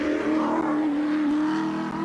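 Larry Perkins' car number 11 NZ Commodore racing at Bathurst gives a steady, loud engine drone held at high revs throughout, close and continuous with no talk over it.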